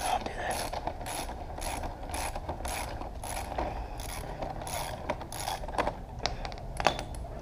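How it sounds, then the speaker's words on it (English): A socket wrench ratchets steadily as a nut comes off the front fork of an SSR 125cc pitbike, giving a fast run of clicking strokes that stay close and up front. "Go ahead and take this nut off"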